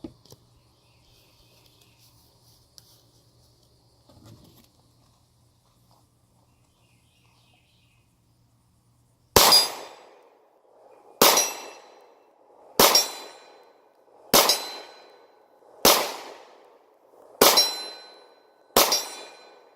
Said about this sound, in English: But I'll shoot a magazine through it here.